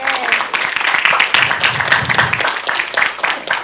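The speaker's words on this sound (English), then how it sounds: "So I ask that you give all of yourselves a round of applause." A hall audience claps together in a warm, full round of applause at a senator's resolution presentation, steady and loud throughout with light murmuring from the crowd mixed in.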